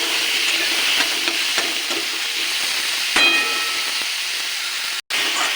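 Tomato fries with salt and turmeric in a pan for dal, a close, steady sizzle and hiss with scraping stirs that drops out briefly near the end.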